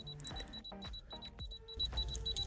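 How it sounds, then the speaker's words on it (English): An electronic fever beeper at an airport temperature check gives a run of sharp, high repeated beeps, fairly faint against low background rumble and thuds. "Constant beeping indicates a temperature."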